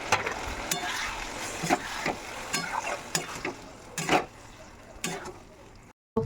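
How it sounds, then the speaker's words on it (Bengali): Marinated chicken frying in a hot wok for Bengali chicken kosha, a steady sizzle broken by repeated sharp scrapes and clatters of a spatula stirring, close and fairly loud, with a brief dropout near the end. "এবার আমরা এই যে ম্যারিনেট করে রেখেছিলাম চিকেনটা দিয়ে দিলাম কড়াইয়ের মধ্যে।"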